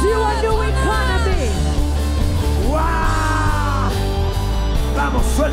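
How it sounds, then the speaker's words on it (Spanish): A church congregation shouts and yells together during a worship service, with loud, sustained, overlapping voices that rise in swelling waves above a steady low music bed. "Come on, release the shout."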